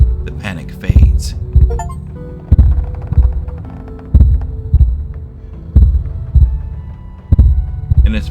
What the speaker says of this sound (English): their heart continuing to beat as they slip into unconsciousness